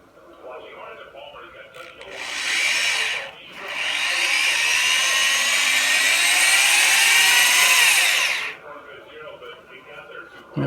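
A power drill drives a T20 star-drive screw into pallet wood with a long, loud whirring run that pauses briefly, then resumes and winds down, with no talk over it.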